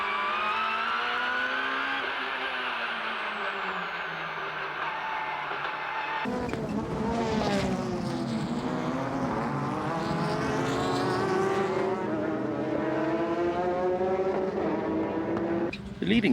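JGTC race cars, including a Raybrig Honda NSX, at a 1997 race: high-pitched engines whining and sweeping in pitch as cars pass, continuous and fairly loud, with a sharp change in engine tone midway.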